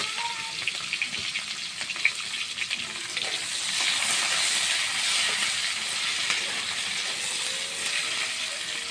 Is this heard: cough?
no